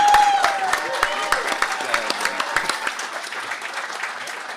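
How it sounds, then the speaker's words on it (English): An audience claps for Hall of Fame legends on stage at a racing gathering, sharp individual claps standing out at first, then thinning and fading over several seconds while a voice talks over it. "A round of applause for all the Hall of Fame legends that we've got up here"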